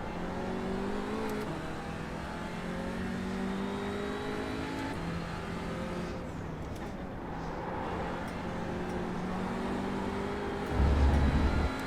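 Audi RS3 LMS TCR touring cars racing at Zandvoort in iRacing, a steady engine drone rising through gears with upshifts, then a low rumble near the end, moderately quiet.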